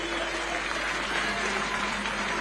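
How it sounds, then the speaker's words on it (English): An audience claps for a Royal Highness at a formal gathering, a dense and steady wash of applause that holds its level through the whole stretch, with no voices over it. "May we clap for our Royal Highness?"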